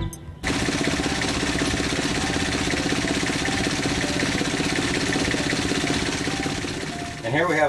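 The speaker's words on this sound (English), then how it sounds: "And here we have our diesel engine." A boat's diesel engine runs steadily at close range, a dense continuous rumble that starts abruptly and holds even through the whole stretch, with a brief change in tone near the end.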